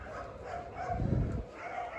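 Doberman dogs at a large kennel give a short burst of barking, a single muffled bark at moderate distance that rises briefly over a quiet background.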